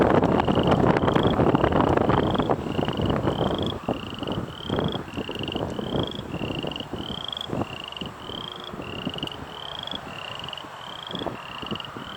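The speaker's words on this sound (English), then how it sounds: "And there were frogs in the ditch." Frogs in a roadside ditch near Edmonton, Alberta, giving a long run of regular, evenly spaced croaks or chirps, moderately close, over a wash of wind noise that is heavier at first and then eases.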